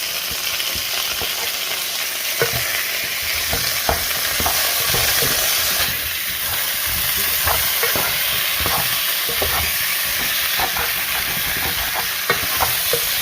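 Tomatoes fry in a soup pot as they are stirred, making a continuous loud sizzle broken by frequent clicks and scrapes of the utensil, with no talking.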